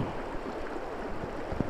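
Barren Fork Creek in south central Missouri, an early-spring trout stream, runs with a steady, broad rushing murmur of flowing water, close and continuous, with a few brief splashy bursts and no voices.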